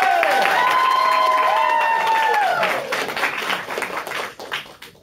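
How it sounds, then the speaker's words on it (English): An audience at an improv show at International Sailor Moon Day Vancouver 2018 gives a round of applause, opening with sliding whoops and cheers over clapping before the cheering fades and loose claps trail off. "round of applause to get us going"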